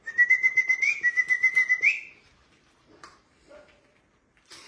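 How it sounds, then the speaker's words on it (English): A person whistles to call a hungry stray dog outdoors in the mountains, giving a rapid series of short, pulsing whistle notes that rise in pitch, followed by faint scattered sounds. "She knows my whistle"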